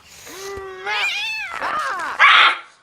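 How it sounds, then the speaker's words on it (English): A cat meows in a film scene, a rising drawn-out cry followed by two more wavering meows and a harsh, hissy yowl at the end, loud and close with no talking. "Even the cat wants to leave."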